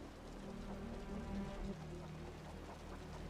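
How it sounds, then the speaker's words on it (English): Heavy rain pours steadily in the Wuthering Waves video game, a dense, constant hiss of falling water with low rumbling underneath. "The rain's getting heavier."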